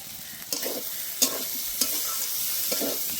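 Soybean curry with chili powder being stir-fried in a pan: a steady sizzle broken by a few sharp spatula scrapes at uneven intervals, close and fairly loud, with no talking.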